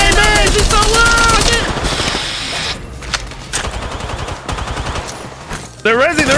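Rapid bursts of automatic gunfire rattle loudly in an Apex Legends firefight, dense volleys over the first seconds and then scattered shots, with a voice talking over parts of it.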